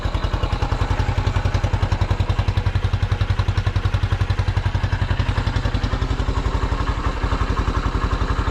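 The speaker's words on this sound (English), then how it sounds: "Yeah, look at how sweet that runs now." A restored 1974 Honda XL250 motorcycle engine runs steadily nearby at a smooth, even idle, its rapid regular firing pulses continuing alone throughout.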